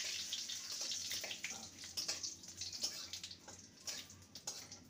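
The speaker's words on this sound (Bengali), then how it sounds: "ফোড়নটাকে কয়েক সেকেন্ড ভেজে নেব।" Cumin seeds, a dried chilli and a torn bay leaf fry in hot oil with a soft, crackling sizzle and faint popping throughout, close but fairly quiet.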